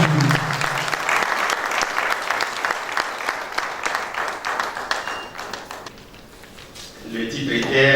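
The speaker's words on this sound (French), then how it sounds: "sous vos acclamations, nous allons accueillir le pasteur Maurice Boudoua" A conference crowd of university teachers and staff applauds steadily to welcome a pastor, the clapping dense at first, then thinning before a voice speaks near the end.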